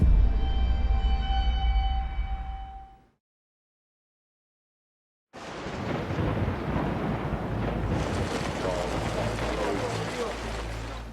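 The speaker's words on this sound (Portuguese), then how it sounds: "Como dá pra ver, começou a chover de novo" Rain falls during an expedition: a dense, steady hiss of heavy rain with a low rumbling start, then a sudden silence of about two seconds before the downpour resumes loud and continuous.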